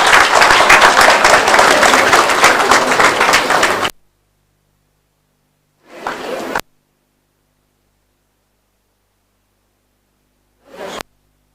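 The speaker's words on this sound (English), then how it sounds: "Can we congratulate everyone with a round of applause?" Loud, sustained crowd applause for several seconds stops abruptly, followed by two short bursts of scattered clapping separated by silence.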